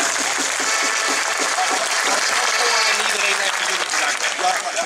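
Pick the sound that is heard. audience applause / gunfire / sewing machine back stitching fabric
audience applause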